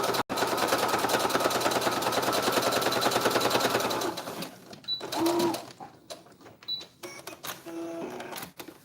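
A sewing machine back stitches the lining of a fabric face mask, a loud, close, continuous rattling run for about four seconds before stopping, followed by quieter handling clicks and a brief voice.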